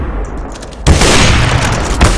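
A grenade blows up in Counter-Strike with a sudden loud boom that breaks through quiet game ambience. A broad rumbling tail follows, with a second thump near the end.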